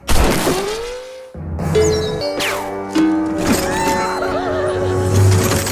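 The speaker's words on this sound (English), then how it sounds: "The sound they heard was a horse carriage crashing about" A loud horse whinnies repeatedly amid the clattering, banging crashes and thuds of a crashing horse carriage, with another neigh rising near the end.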